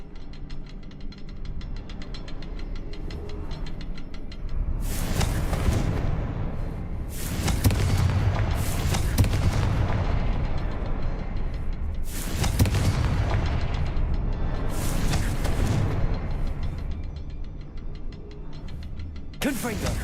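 Confringo fire spells explode in Hogwarts Legacy, a series of about five heavy, booming blasts spaced a few seconds apart, each with a sharp crack and rumbling tail over a continuous low background.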